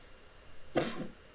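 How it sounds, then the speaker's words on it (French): A single short sneeze bursts out close by after a moment of near quiet. "Je vais éternuer"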